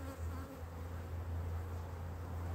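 Close, steady hum of calm honeybees crawling over a brood frame in an open hive, a continuous low buzz with no talk.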